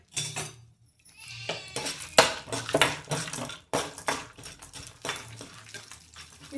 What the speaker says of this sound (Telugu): మొత్తం ఉద్దిబ్యాలు, ధనియాలు, శనగబ్యాలు, శనక్కాయ విత్తనాలు వేసి వేపుతాను